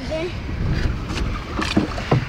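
A canoe paddled on open water, with soft splashes and dips of the paddle under steady wind and water noise, while people talk nearby.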